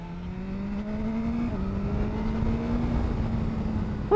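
A BMW S 1000 R motorcycle accelerating at quarter throttle, its engine note climbing steadily through a gear change into a rising, smooth rasp, heard close and continuous without talking.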